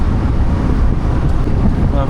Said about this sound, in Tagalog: ang lakas ng hangin basta malamig